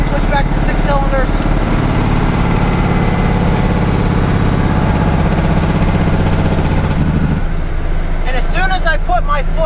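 A 10-wheeler dump truck's heavy engine runs loud and close on six cylinders, a steady low diesel rumble with someone talking over it at the start and end.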